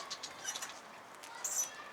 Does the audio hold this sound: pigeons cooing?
yes